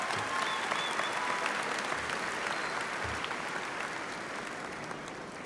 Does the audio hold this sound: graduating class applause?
yes